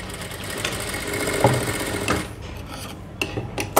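A sewing machine stitches a high neck blouse, running in a steady close whir for about two seconds before it slows into scattered clicks and rustles of the fabric being handled.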